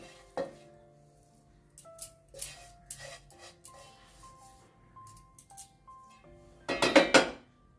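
Fried greens are worked into flour dough in a metal bowl, with scattered light clinks and scrapes of a spoon against the vessel and a louder burst of stirring clatter near the end.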